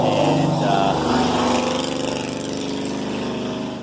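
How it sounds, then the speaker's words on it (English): A large, rough-sounding motorbike passes by nearby, its engine loud at first and then fading to a steady droning rumble as it moves off. "that was a really big piece of shit bike that just went by. Sounded like shit."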